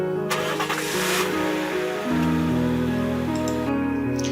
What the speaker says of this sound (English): In moments, the sound of the engine reverberated in the interior.